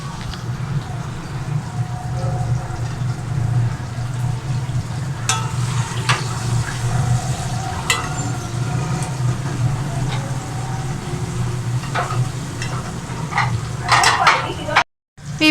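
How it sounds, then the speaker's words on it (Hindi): Tomatoes and green chillies sizzling in a hot pan for chana pulao, a steady frying hiss with occasional scraping stirs, close and continuous before a sudden cut near the end. "वीवर्स, अब हम इसमें टमाटर और हरी मिर्चें ऐड करेंगे।"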